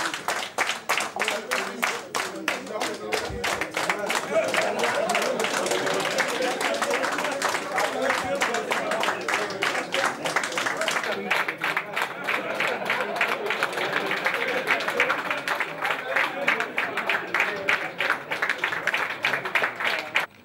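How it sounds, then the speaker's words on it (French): Ministers in a council meeting room clap in sustained, dense rhythmic applause that keeps going for about twenty seconds, close and steady, as officials enter the hall, with a voice speaking over parts of it. "le premier ministre Yacouba Isaac Zida font leur entrée dans la salle sous les applaudissements nourris des ministres"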